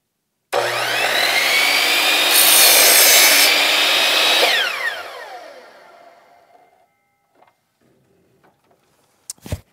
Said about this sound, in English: So there's your straight cut on the compound miter saw.